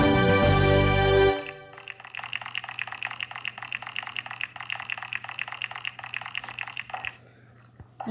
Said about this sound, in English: Oh, it's a water faucet.